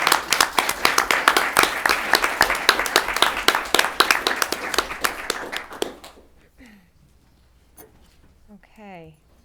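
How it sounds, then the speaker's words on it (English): Audience at a school committee meeting breaks into a burst of applause for successful students, dense, steady clapping for about six seconds that then stops, followed by a speaker's voice in a quiet room. "how about one more round of applause for all our successful students"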